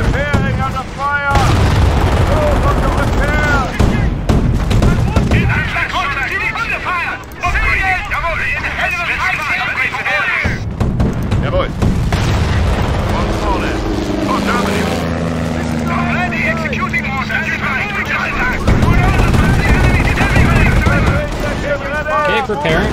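Gunfire and artillery rage in a Company of Heroes battle: repeated loud booms and bursts of shooting, with rumbling and mechanical noise between them, while voices call out over the combat.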